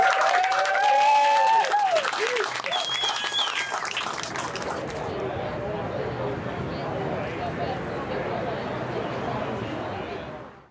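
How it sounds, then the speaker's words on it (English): Someone speaks briefly, then a roomful of people breaks into loud, sustained applause that continues evenly before cutting off. "Give them a round of applause."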